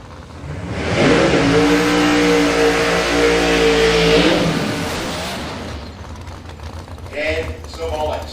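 Drag radial race car on Kenda 660 tyres at Australian radial racing testing, a loud close engine revving hard for about three seconds with a crackling rumble, then dropping off, with a voice talking afterward.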